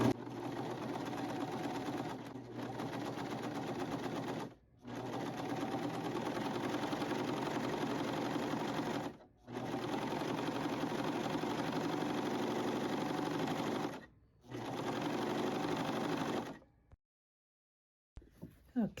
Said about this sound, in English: switch our serger on, our overlock machine on, and then we're going to go ahead and start